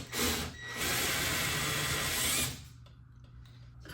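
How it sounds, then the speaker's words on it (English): A power drill whines loudly in two bursts, a short one then a longer steady run, drilling out factory rivets from a B5 Volkswagen Passat door speaker, before cutting off to quieter background noise. "I'm gonna start by drilling out the OEM rivets."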